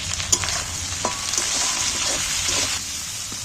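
Onion and capsicum sizzle steadily while frying in a pan for a fish recipe, with a few soft scrapes and taps from stirring over a constant, fairly loud hiss, no voices.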